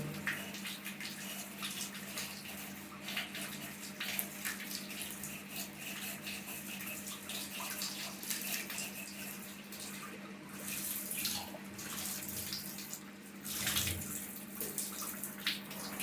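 Water running steadily from a tap while a part from a Junkers ZSB223C23S gas boiler is rinsed clean, a continuous close splashing rush with brief surges, no voices over it.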